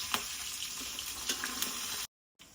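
Curry leaves and asafoetida sizzling in hot oil as a tempering for a mango pachadi: a soft, crackly fizz with a few sharp pops, steady and close, cut by a short silence near the end.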